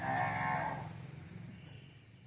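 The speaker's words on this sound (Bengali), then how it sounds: "খাটালের ভিতরে আরও অনেক গরু আছে" A cow in a cattle shed moos loudly once, a long low drawn-out call that fades away, with a quieter animal rumble underneath.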